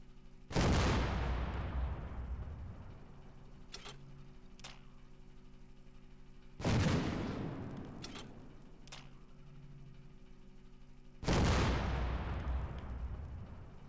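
Heavy gunfire booms in the video game Fallout, three loud blasts spaced several seconds apart, each trailing off in a long echoing decay, with a couple of fainter sharp shots in between.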